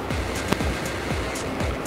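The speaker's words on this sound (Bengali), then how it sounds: "আর ঢেউ দেখুন কত স্রোত বইছে" Swollen river water rushes and surges in waves past a washed-out ferry-ghat road at Joydeb Kenduli, Birbhum. It makes a continuous close roar with repeated sloshing swells, and no voices are heard.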